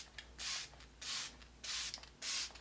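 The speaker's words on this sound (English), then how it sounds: "Just spray a couple sprays on top" Four short, even bursts of Luna Bronze tanning spray misted onto a face, each a bright, close hiss of about half a second, separated by brief pauses.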